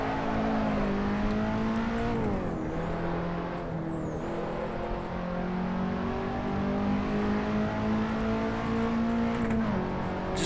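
KTM X-Bow drifting at Silverstone in Assetto Corsa, its engine droning loud and continuous with revs dipping and climbing as the car slides sideways, heard alone without talk.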